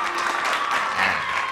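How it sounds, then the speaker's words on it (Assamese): A short burst of audience applause from a live Assamese comedy show, with dense steady clapping filling the whole moment and no clear talking over it. "জোৰা হাতালি তালি দিব লাগে"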